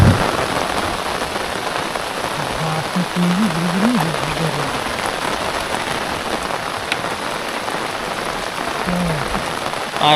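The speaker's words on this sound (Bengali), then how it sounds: "প্রচণ্ড পরিমাণে বৃষ্টি" Heavy rain pounds down during a fishing outing for prawns, a loud, dense wash of drops hitting surfaces, steady throughout with a faint low tone drifting underneath.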